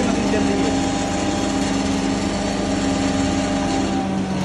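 A dalia (broken wheat) making machine runs with a steady, loud, continuous mechanical hum and drone, unchanging from start to finish.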